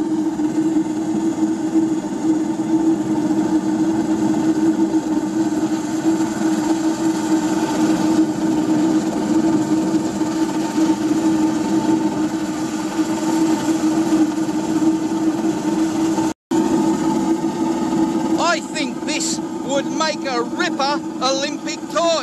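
A vertical oil spray burner runs high with a loud, steady roar and a deep droning hum like a didgeridoo. A voice comes in over the roar near the end.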